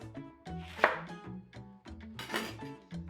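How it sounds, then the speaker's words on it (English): A knife cuts a lemon in half on a board during fajita steak prep, with a few close, distinct thuds and slicing knocks, a brief scraping squish in between, and no talking. "One lemon cut in half."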